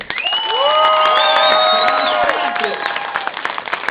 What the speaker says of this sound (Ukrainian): Аплодисменты, бурные!